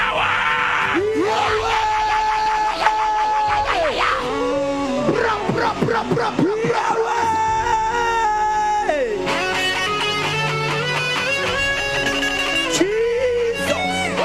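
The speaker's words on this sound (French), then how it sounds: "Lève les mains, crie." A church congregation shouts and cries out loudly with raised hands, a dense, continuous mass of voices, yells and sustained tones with organ-like pitches running through the whole stretch.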